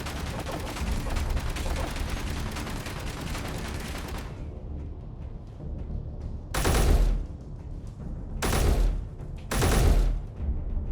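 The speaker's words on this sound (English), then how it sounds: "They're shooting through them." Gunfire in the video game Space Engineers: a dense stretch of rapid automatic fire, then after a short quiet gap three separate loud, booming bursts of shooting, close and with no talk.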